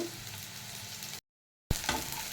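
Onions frying in a pan for blending with mint, a steady close sizzle broken by a brief silent gap, then a sharper clatter as frying resumes.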